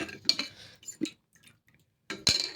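A spoon stirs gelatin in a dish to dissolve it, giving a few light clinks and scrapes against the container, with a quiet pause before a sharper burst of clinking.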